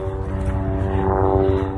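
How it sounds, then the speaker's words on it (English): A helicopter flies over coastal cliffs near a beach, its steady droning rotor and engine hum holding close and fairly loud throughout, with no talking. "Got a helicopter coming to join us."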